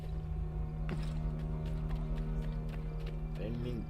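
Hooves of a horse clip-clop at a steady walking pace in the Assassin's Creed III video game, with a snort near the end over a droning game background.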